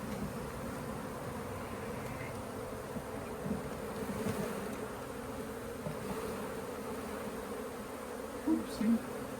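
A honeybee swarm drones around frames in a swarm trap, a continuous close buzzing hum that stays steady for the whole stretch, with a couple of faint knocks near the end.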